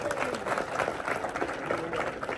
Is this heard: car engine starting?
no